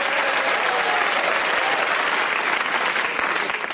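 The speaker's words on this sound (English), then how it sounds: "can we give them a round of applause?" Studio audience at a comedy show applauding, a loud, sustained wash of many hands clapping at steady volume with no break.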